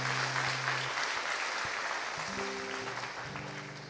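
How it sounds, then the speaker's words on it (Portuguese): A church congregation applauds at a Portuguese-language service, a steady wash of clapping held at even volume with organ or keyboard tones sounding beneath it. "Então aplauda o nome do Senhor Jesus e tome seu assento."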